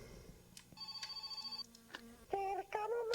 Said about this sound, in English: oh, I have a phone call.